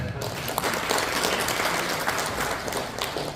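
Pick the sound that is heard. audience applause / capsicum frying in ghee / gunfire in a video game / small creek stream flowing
audience applause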